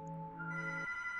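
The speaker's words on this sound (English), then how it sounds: "The phone is ringing," A telephone rings in the horror game Among the Sleep: a short electronic tone with steady harmonic bands that shifts pitch partway through, moderately quiet and heard alone without any voices.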